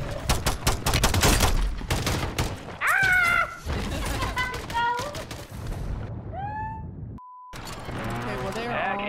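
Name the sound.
sniper gunfire in Call of Duty video game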